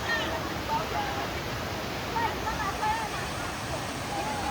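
Monsoon-fed Mormarewadi waterfall near Kamshet pours in a continuous, loud, broadband rush close to the listener, an even wash of water noise throughout with no talking.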